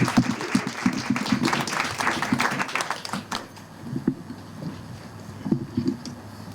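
An audience at an America 250 marker dedication held by the Daughters of the American Revolution claps in welcome, a moderate burst of applause that fades after a few seconds into scattered, lighter claps.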